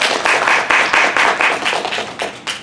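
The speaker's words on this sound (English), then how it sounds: "So join me in a round of applause for Ms. Pucci Revlon." An audience at an LGBTQ history talk gives a round of applause, loud and near, with distinct rhythmic clapping in waves that taper toward the end.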